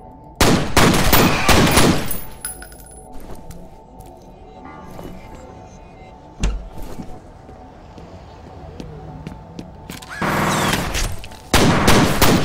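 Bursts of loud automatic gunfire in the shooter F.E.A.R. come as a dense volley near the start and two more near the end, with a sharp single shot between them and quieter game ambience filling the gaps.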